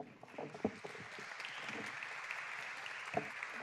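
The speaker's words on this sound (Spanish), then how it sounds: "a quien vamos a recibir con fuertes aplausos" Faint, distant applause from an audience at a conference on Peru, a soft steady patter with a few sharper claps standing out.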